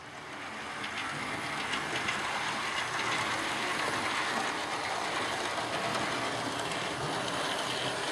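A small model train whirs and rattles steadily up a ramp, a continuous mechanical rumble that builds slightly at the start and then holds.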